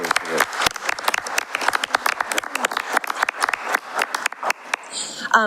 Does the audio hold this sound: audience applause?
yes